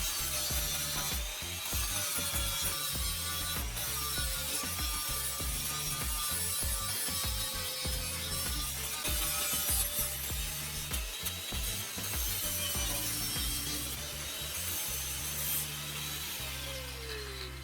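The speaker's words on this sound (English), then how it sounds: "I'm using an angle grinder with a sanding disc to smooth out all the welded seams." A steady, grinding whine of an angle grinder with a sanding disc smoothing welded seams on a metal frame runs continuously and loudly throughout, with scraping and rubbing textures shifting as it moves.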